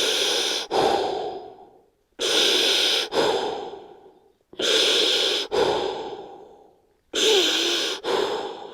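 Slow, deep breaths during a yoga balance stretch, four long airy inhale-exhale cycles close to the mic, each a strong rush of air tapering off before a pause.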